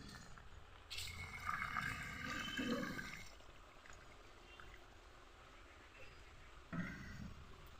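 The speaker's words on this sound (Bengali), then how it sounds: "আর ফুটিয়ে রাখা জল দিয়ে দেব।" Hot boiled water poured into browned mutton curry in a pot, a loud rushing pour for about two seconds that fades into a low simmering hiss, with a brief second splash near the end.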